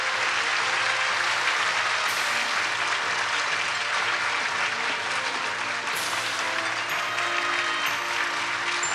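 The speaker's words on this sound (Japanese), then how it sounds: "大きな拍手をお送りください。" Sustained audience applause fills a hall at a film award ceremony, a dense steady wash of many hands clapping together, loud and continuous throughout with no voices on top.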